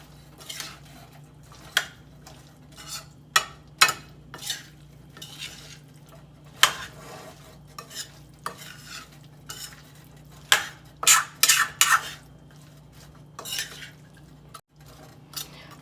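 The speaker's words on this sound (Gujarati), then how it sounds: "અને હવે હલાઈશું અને એને ધીરા તાપે એને બટાકાને ચડવા દઈશું" Onions and potatoes stirred in a cooking pan, a spoon scraping and clanking against the metal in irregular bursts over a faint sizzle, close and clear with no voices.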